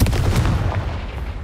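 A Confringo spell in Hogwarts Legacy goes off as a sharp, heavy boom, like a cannon shot, followed by a rumbling decay over a second and a half.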